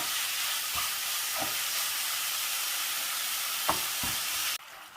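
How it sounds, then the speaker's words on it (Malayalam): Grated carrots cooking with sugar in a pan for carrot semiya payasam give a constant close hiss and sizzle, with a few soft scrapes of stirring, cutting off abruptly at the end, no talk. "ഇനി അതിലേക്ക് 1/4 കപ്പ് പഞ്ചസാര ചേർത്ത് നന്നായിട്ട് മിക്സ് ചെയ്യാം."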